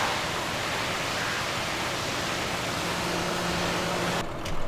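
A Sammy tractor is rinsed with a water spray in Farming Simulator 15, a steady, even hiss of water that holds loud and constant for several seconds before cutting off near the end.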